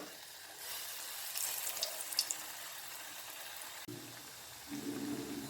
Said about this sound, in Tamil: இப்போ எண்ணெயும் நல்ல சூடேறிடுச்சு இப்போ ஒன்று ஒன்றா எண்ணெயில் இறக்கிடலாம்